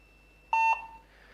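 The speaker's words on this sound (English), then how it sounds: "we got an alarm, attack on staff, and it's beeping until I acknowledge that" A CenTrak Omni Display Panel sounds an attack-on-staff alarm: one clear, steady electronic beep lasting about a quarter second, loud and close in an otherwise quiet room.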